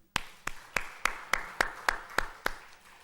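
About nine sharp, evenly spaced claps ring out one after another at a steady rhythm during a church service, fairly close and crisp.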